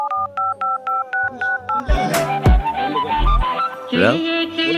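A telephone keypad is dialed, a quick row of about eight evenly spaced beeps, loud and close, then a dog yips and whimpers over a person talking.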